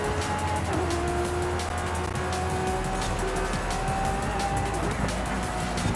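A Pagani Zonda races in Forza Horizon 5, with a continuous engine drone and shifting pitched whine throughout, plus occasional tire noise.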